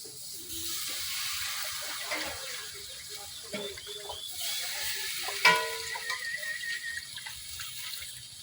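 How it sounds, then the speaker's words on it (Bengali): Freshly washed greens tipped into a hot wok with dried fish, a broad wet hiss and spattering sizzle with stirring scrapes and a sharp clink midway, no speech. "এখন আমি শাকগুলা আবার ধুইয়া সরাসরি কড়াইয়ের মধ্যে দিয়ে দিতেছি।"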